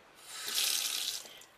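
Cold tap water pouring over freshly boiled spaghetti in a kitchen sink, a brief hissing splash that swells and then fades, close and moderately loud, with no voices.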